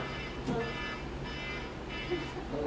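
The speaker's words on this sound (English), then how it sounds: "That's my doorbell." A doorbell chime sounds through a phone app, repeating a few times as quiet electronic tones over a steady hum, with a person talking nearby.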